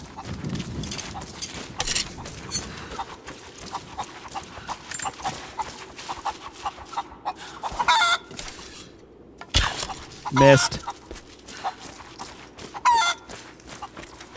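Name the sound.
chickens clucking in the video game Tomb Raider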